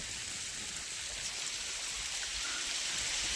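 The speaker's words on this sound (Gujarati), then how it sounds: "અત્યારે અહીં મિત્રો વરસાદ ચાલુ છે ખૂબ સરસ મજાનું વાતાવરણ છે" Rain falls at the Sana caves on Sana Dungar hill, a steady, even hiss of drops on surfaces heard at a moderate distance throughout, with no speech.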